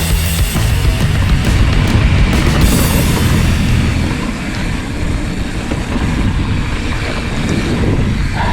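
Steady, roaring wind buffets a rider on a sandy Orange County mountain bike trail aboard a YT Jeffsy CF Pro Race, filling the whole stretch with loud, continuous rumble and hiss.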